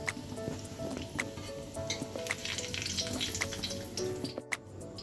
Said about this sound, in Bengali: দেখো আমি যে গোটা গরম মশলাগুলো নিয়েছিলাম ওগুলো আমি তেলের মধ্যে দিয়ে দিচ্ছি।